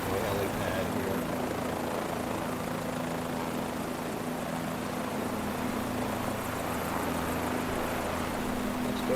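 A helicopter in Microsoft Flight Simulator 2024 produces a continuous, loud rotor and engine drone with a steady low pulsing hum, holding even from start to finish, while a voice talks over it.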